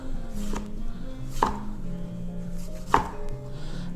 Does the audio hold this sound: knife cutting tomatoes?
yes